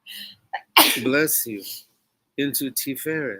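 A single sneeze bursts out amid a person's speech, sharp and close, with talking continuing before and after it.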